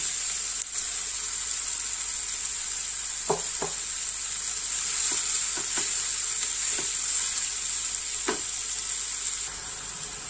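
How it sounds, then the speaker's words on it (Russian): Onion and minced meat fry in a pan with a loud, continuous hissing sizzle, broken by several sharp knocks of a utensil against the pan, with no talk. "обжариваем лучок. Отправляем сюда же фарш."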